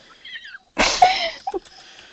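One sharp human sneeze during a tabletop Dungeons & Dragons session, close and loud, preceded by a brief intake of breath and followed by a small sniff.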